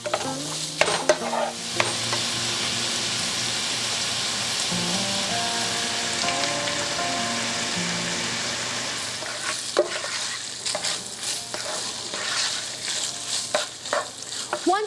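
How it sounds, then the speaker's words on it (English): Sausage browning in a large pan over medium-high heat, with its fat left in, gives a steady, dense sizzle and crackle throughout, and occasional stirring scrapes are heard near and loud without any talk. "in a large pan over medium-high heat, you're gonna wanna brown your sausage and do not drain the fat"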